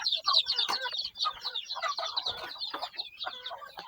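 Chickens cluck and squawk continuously at close range while being fed, a busy overlapping chorus of native fowl with no talk.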